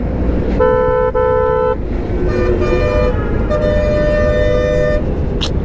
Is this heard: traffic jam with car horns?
yes